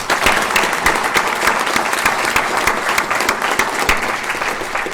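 Sustained applause from a meeting audience honouring an agency officer, a dense, even clatter of many hands clapping steadily for the full length, with no talk over it.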